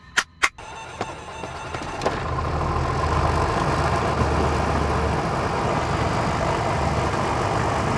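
An older light aircraft's engine, fitted with a 1980s Clapper starting mod, gives a few sharp clicks, then catches and settles into a loud, steady idle rumble with no voices.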